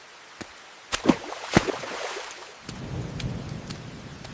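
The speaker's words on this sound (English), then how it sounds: "Ugh, rain again?" Steady rain pours down with sharp claps of thunder cracking early on, then a dense patter of falling drops fills the rest.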